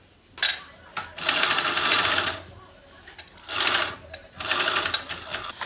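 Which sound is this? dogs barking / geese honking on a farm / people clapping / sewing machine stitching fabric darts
sewing machine stitching fabric darts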